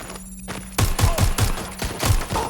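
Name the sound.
gunfire in the video game Watch Dogs: Legion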